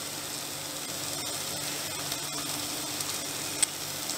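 Banana flower curry stirred over high heat in a pan, giving a steady close sizzle and frying hiss throughout with a few faint scrapes and clicks.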